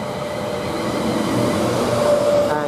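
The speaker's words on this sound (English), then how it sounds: "Now we've got some London Northwestern Railways coming in here" A London Northwestern Railway Class 350 electric unit arriving at Milton Keynes Central station, giving a steady rolling rumble with a faint rising whine toward the end, no talk over it.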